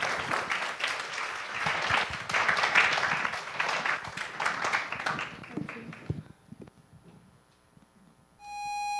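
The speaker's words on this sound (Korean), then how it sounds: "자, 큰 박수 부탁드리겠습니다." A school audience claps loudly for a sixth-grade students' musical, steady dense applause that fades around six seconds, leaving quiet room sounds and a brief tone at the end.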